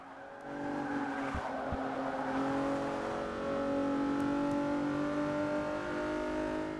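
A 1999 Mitsubishi EVO races in Forza 6, its engine holding a steady, loud drone with shifting revs, a brief tire squeal and a couple of thumps early on, no voices.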